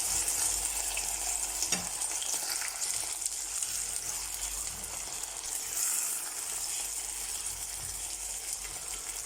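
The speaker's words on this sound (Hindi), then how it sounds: "एक दो मिनट तक हम इसको इसी तरह प्याज में पकाएंगे, आलू को" Potatoes cooking with onions in a pan, a steady hiss of frying that holds at an even level throughout with one brief scrape early on, and no voices.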